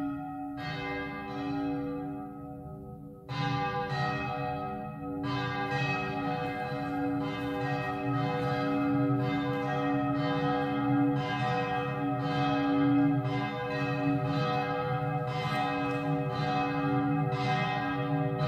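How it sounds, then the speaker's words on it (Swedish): Church bells of Gudmundtorp church ring out steadily for a Christmas service, a dense, sustained peal with overlapping strikes swelling after a brief lull and continuing loud and alone, with no talk. "Och så lyssnar vi till kyrkklockorna som ringer oss samman."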